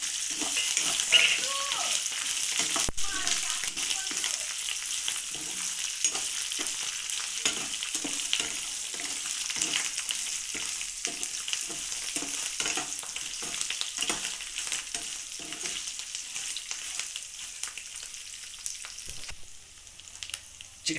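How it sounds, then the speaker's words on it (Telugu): Curry leaves and dried red chillies frying in hot oil, giving a continuous close sizzle with rhythmic stirring clatter throughout and a faint voice briefly underneath. "ఈ ఎండుమిరపకాయలు కూడా ఇందులో వేసుకుని బాగా వేపుకుందాము."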